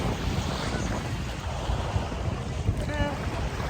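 Ocean surf on a beach at Cabo San Lucas, heard from someone standing in the water: a steady, loud wash of waves mixed with gusty wind noise across the microphone, and a brief voice near the end.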